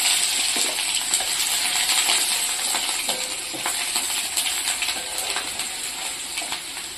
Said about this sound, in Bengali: খানিকটা রসুন ফোড়ন দিলাম